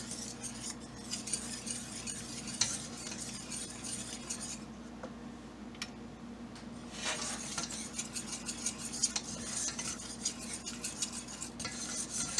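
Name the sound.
stirring food in a pan until golden brown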